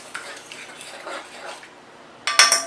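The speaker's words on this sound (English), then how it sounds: "I'm just going to mix it up with a fork," A fork stirs rice just poured into a pot of boiling water for a home-cooked curry chicken meal: soft scraping and swishing, then a burst of sharp metallic clinks against the pot at the end.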